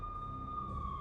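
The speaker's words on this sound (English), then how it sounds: "I could hear the sirens. Their wail was a crescendo." Police sirens wail in a steady, sustained tone over a low rumbling background, fairly faint, with the pitch rising slightly near the end.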